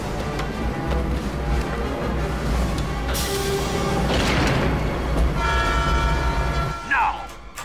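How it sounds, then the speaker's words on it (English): Train in the James Bond video game Everything or Nothing, with a steady rumbling rail roar throughout, a loud horn-like blast mid-clip and a brief high screech near the end, layered over game music. "Sorry, gentlemen, but I have a train to catch."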